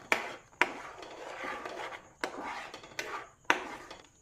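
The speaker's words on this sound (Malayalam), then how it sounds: "നമുക്കിതൊന്ന് ഇളക്കി കൊടുക്കാം" A spoon stirring sweetened sauce in a pan, with sugar just added, gives repeated scraping strokes and sharp knocks against the pan at a steady rhythm, close and fairly clear with no voices.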